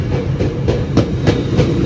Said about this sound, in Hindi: डबल डेकर ट्रेन है.